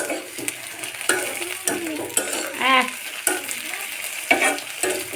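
Tomatoes added to browned onions sizzle in a pan while cooking tengra fish dopiaza, with repeated sharp clinks and scrapes of a spoon stirring against the metal at an uneven rhythm.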